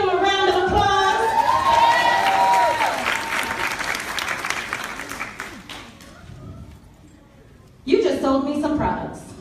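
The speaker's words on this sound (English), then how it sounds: "Let's give him a round of applause." A training event audience breaks into loud, sustained applause with some cheering, tapering off before another surge of crowd noise returns near the end.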